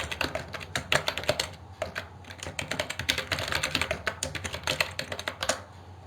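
Fast, continuous typing on a computer keyboard while entering headings into an Excel attendance sheet, with dense, close clicking keystrokes in irregular bursts and no talking.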